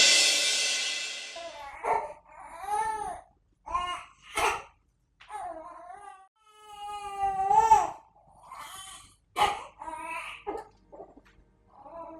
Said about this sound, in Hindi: वहां बच्ची रो रही है और तुम्हें आवाज तक नहीं आ रही।